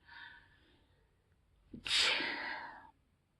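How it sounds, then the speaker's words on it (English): A single sneeze: a soft breathy intake followed by a sharp, loud burst that trails off, close and alone. "I'm so sorry, I'm gonna sneeze."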